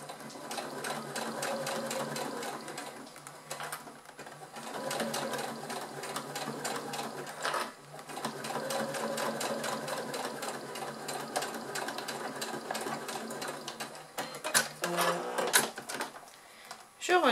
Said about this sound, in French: je fais ma couture au point droit